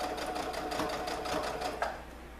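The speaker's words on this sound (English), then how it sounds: "So now what I'm doing is I'm just doing a straight stitch across" A sewing machine runs a continuous straight stitch across a fabric ruffle for a peasant dress, a steady close rapid needle chatter with a small clunk near the end.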